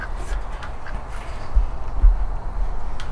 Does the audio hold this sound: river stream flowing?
no